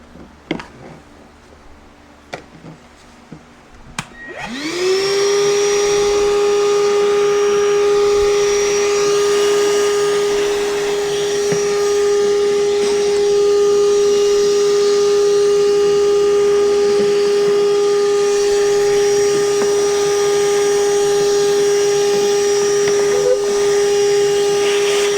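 Cordless battery-powered vacuum cleaner starts up and runs steadily at close range, a loud constant whine with a high motor tone, while cleaning up a mess from a vibratory tumbler; no talking over it.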